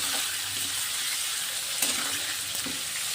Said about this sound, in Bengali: তারপরে সাদা তেলে অল্প জিরে দিয়ে আমি সমস্ত সবজিগুলোকে ভালোভাবে একটু ভেজে নিয়েছিলাম।